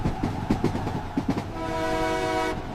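A Mumbai local commuter train rattles past with rhythmic clickety-clack of wheels, then a long, loud horn blast sounds close by.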